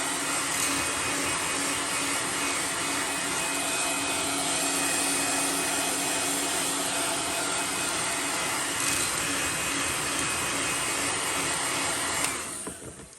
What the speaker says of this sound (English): I'm just gonna put a little bit of heat on this.